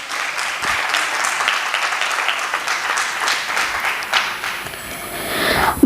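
An audience gives loud, sustained applause at a poetry recital about Dr. Ambedkar and Mata Ramabai, the clapping dense and close and swelling slightly toward the end.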